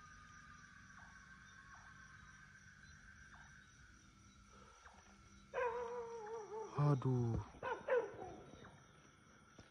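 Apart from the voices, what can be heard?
dog barking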